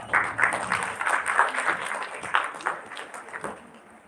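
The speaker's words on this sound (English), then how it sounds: "A huge round of applause for Dr." An audience applauds at a live event honoring dental doctors, a steady patter of many hands clapping from a moderate distance, fading slightly toward the end.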